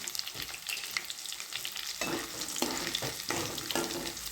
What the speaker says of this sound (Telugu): ఇప్పుడు నేను దంచి పెట్టుకున్న వెల్లుల్లిపాయ వేస్తున్నాను. ఆవాలు, జీలకర్ర 1 స్పూన్.